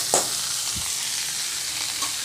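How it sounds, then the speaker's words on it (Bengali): Cabbage, carrots, beans, capsicum and onion stir-fried in a pan for egg chow mein, giving a steady close sizzle with a few sharp scraping stirs, no voices. "এবার এভাবে ভালো করে ভেজে নেব সবজিগুলো।"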